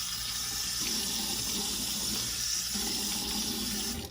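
Water running steadily from a tap into a sink while lathering shaving cream with a boar brush, a close, constant rushing hiss that holds for about four seconds before cutting off at the end, with no voices.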